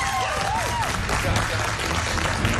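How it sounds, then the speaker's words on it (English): Contestants of the MasterChef Top 10 applaud themselves in the studio, a short burst of clapping and crowd noise with a voice speaking over the start. "Give yourselves a round of applause"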